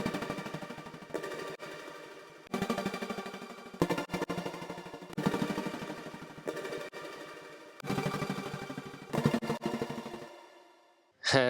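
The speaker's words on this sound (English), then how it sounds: "I basically just added an LFO tool at a high rate and made them real glitchy and washed them out with reverb" Glitchy synth chords are chopped into fast stuttering pulses by a high-rate LFO tool and smeared with reverb, sounding in repeated bursts with a brief high chirp at the end, quiet and alone.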